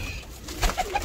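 Breeder pigeons coo softly in a short burst, with a few low murmuring calls close by and no talking over them.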